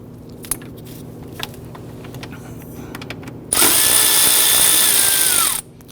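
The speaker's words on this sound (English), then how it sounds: "they're all using 10mm bolts here. I'm going to go ahead, loosen and remove these" A power drill or impact driver spins out 10mm bolts on a 2011-2015 Kia Sorento, a loud steady whine of about two seconds whose pitch holds and then falls as the motor winds down, after a stretch of quiet clicks and small clanks from handling tools.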